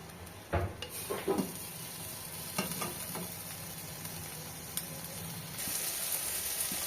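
Spice paste sautés in oil in a pan for a tangra fish curry with winter vegetables, giving a steady close sizzle, with a few scraping stirs early on and hissing that swells near the end.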